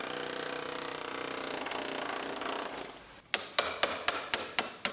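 A pneumatic hammer or chisel breaks spot welds loose on a damaged car body during a collision rebuild. A steady grinding rush gives way to about seven sharp, evenly spaced metallic blows, loud and close.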